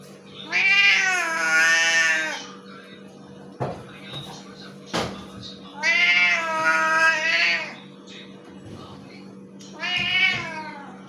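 A cat meows three times from up on a raised platform, drawn-out and wavering, over a steady low hum with a couple of sharp knocks in between.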